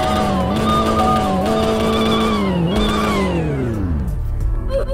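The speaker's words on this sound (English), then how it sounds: "Now let's go into realistic here and hear the revs." Supercharged four-cylinder sports car engine in the Greenville video game, revving up and down in repeated climbing pulls with a rising whine, loud and close, then dropping away to a low idle.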